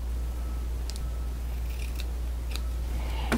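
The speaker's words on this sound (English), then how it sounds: "I like to just scrunch it together and give it a little snip" Scissors snipping scrunched-up wide ribbon, several short crisp cuts spaced apart over a steady low hum, close and without speech.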